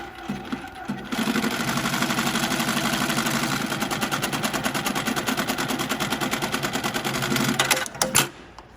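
A Mitsubishi programmable CNC sewing machine stitches webbing with a loud, fast, rhythmic needle chatter and mechanical whir for about seven seconds, then stops with a couple of clunks.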